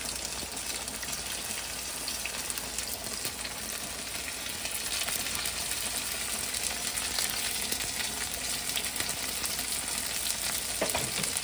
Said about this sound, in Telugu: బెండకాయ ముక్కలు వేసి ఇందులో మంచిగా ఫ్రై చేసుకోవాలి